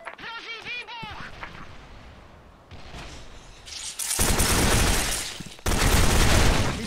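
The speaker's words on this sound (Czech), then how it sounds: "Hozen granát! Hrozí výbuch!" A grenade explosion and gunfire in the Call of Duty Cold War video game on the Waterside map: loud bursts of rapid shots and booms build in intensity, ending in dense, heavy firing.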